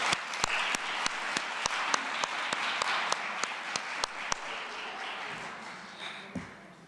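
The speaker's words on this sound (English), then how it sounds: "I think she needs another round of applause" A full round of applause for someone speaker at a Women's Month celebration: dense, steady clapping from an audience with a few sharp individual claps standing out, holding strong before gradually thinning toward the end.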